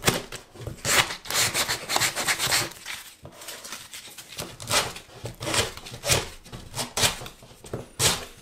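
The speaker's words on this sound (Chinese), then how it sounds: "我要用砂纸给它重新的把边缘打磨平" Sandpaper rubs the rough, saw-cut edges of a drywall hole patch in quick back-and-forth strokes, a dry rasping rhythm repeating steadily up close.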